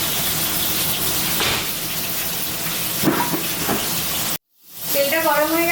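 White oil heats in a hot wok for frying paneer, giving a steady close hiss and sizzle that cuts off abruptly, followed by a short stretch of someone talking.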